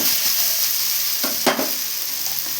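Vegetables including cluster beans being sautéed in a pan for avial, an even, continuous sizzle with a couple of brief stirring scrapes, close and fairly loud, with no speech.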